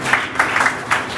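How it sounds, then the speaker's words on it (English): An audience at a Thanksgiving service at a Dubai headquarters claps steadily, with a dense patter of many hands and periodic louder swells, heard alone. "keep clapping for us whilst we"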